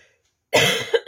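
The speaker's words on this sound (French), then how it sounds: "Alors je tousse" A woman working with polymer clay and alcohol inks coughs once sharply and closely, followed by a quick second cough after a brief pause, in an otherwise quiet room.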